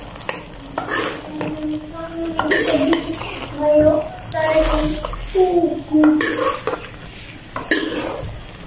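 Mongray (moong dal fritters) being stirred into spice masala in a pan, with a spoon scraping and clinking against the metal amid a soft sizzle, loud and close, with no talk.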